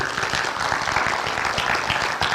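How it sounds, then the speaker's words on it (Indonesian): Loud, sustained applause from an audience, a dense patter of many hands clapping continuously without pause. "tepuk tangan yang semangat ya"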